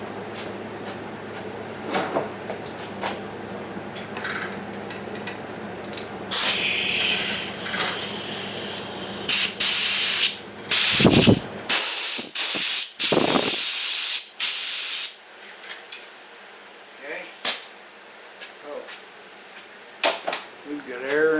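Compressed air blasts from the nozzle of a Vevor hose reel in a series of loud, close, hissing bursts, several short ones following a quieter stretch with handling noise.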